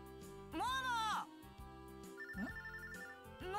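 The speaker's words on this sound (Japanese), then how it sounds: "あれ？ モモから電話だ。" A ringtone chimes in a To LOVEる Darkness Battle Ecstasy video game scene, a short electronic melody rising over background game music and voice, with a speaking voice heard around it.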